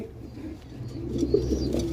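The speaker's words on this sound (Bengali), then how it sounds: "এই দেখতে পাচ্ছেন স্ক্রিনে একজোড়া লাহোরি কবুতর সিলভার" A pair of silver Lahori pigeons coo softly, a low rolling burble that swells slightly toward the end, with no voices over it.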